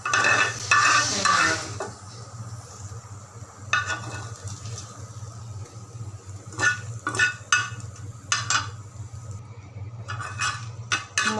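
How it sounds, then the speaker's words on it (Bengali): Chilies frying in a pan with a low, steady sizzle and hum, marked by a louder scrape at first and then scattered, close spatula knocks and stirring strokes. "মরিচগুলো ভাজি করা হয়ে গেছে"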